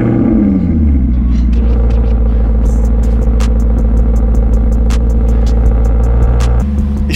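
Maserati GranCabrio MC convertible engine running close by, a deep loud rumble with a falling rev at the start, then a steady idle ticking rhythmically before a brief rise near the end.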